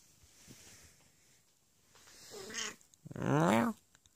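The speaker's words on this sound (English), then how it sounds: "Look at that kitty cat. That's a beautiful kitty cat." A cat gives two drawn-out, wavering meows close by, the second louder and longer, over faint background rustling. Nobody talks during the sounds.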